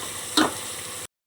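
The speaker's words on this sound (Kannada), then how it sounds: "ಪುರಿ ಉಪ್ಪಿಟ್ಟು ಮಾಡೋಕ್ಕೆ ಒಗ್ಗರಣೆ ಮಾಡ್ಕೊತಾ ಇದ್ದಾರೆ." Spices for a puffed rice upma tempering sizzle in hot oil with a steady crackle, and one brief louder stir or clink is heard near the start.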